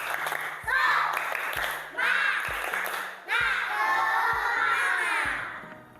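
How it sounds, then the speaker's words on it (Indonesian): A class of children performs a rhythmic group clap, three loud bursts of unison clapping with cheering voices, separated by brief pauses while a teacher speaks. "Satu kali tepuk semangat."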